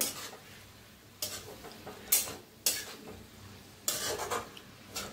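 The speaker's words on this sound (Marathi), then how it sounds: "बघा छान असे मिक्स करून घेऊया" Dill leaves being stirred in a pan, with soft scraping strokes and several sharp clinks of a spoon against the metal, spaced irregularly and close by, with no talking.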